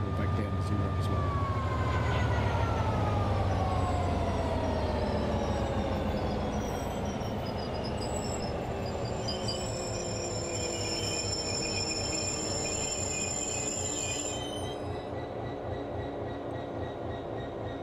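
A train in Train Sim World on Xbox, emergency braking to a stop: a loud, steady rumble and hiss with a whining tone that slowly falls in pitch as it slows, and a high squeal near the end. A voice speaks over it.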